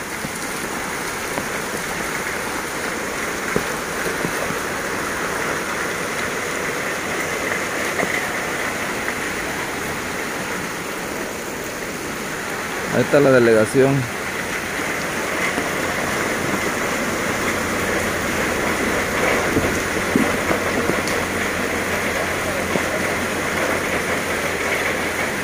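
Floodwater runs as a river through a street in Acapulco during Hurricane Nora, making a steady, broad rushing wash that persists throughout, while someone speaks briefly in Spanish partway through.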